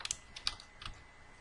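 Quiet, close keystrokes on a computer keyboard tap in an uneven run of clicks while someone types text into a Word 2016 document.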